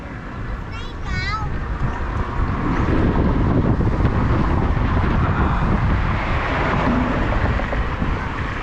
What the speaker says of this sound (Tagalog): Lakas ng hangin, galaw talaga sa sakyan.